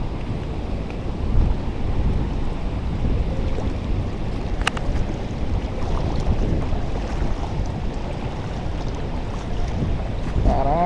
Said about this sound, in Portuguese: aqui é cachoeirona